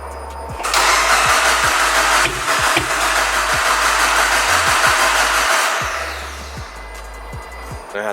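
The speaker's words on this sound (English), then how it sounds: "the objective right now is to start it and just see if it idles normal or normal-ish." A big-turbo Mitsubishi Evo 9 engine cranks and fires, then settles into a loud, steady idle with rhythmic pulses that ease slightly toward the end, with no talking.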